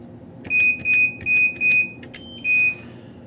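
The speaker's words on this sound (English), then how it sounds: "Now we have a red LED and 3 beeps telling us the pin is now invalid." A CM-120 door-access keypad sounds a run of short, shrill electronic beeps in quick succession after a rejected PIN, each with a faint click, followed by one last beep after a brief pause.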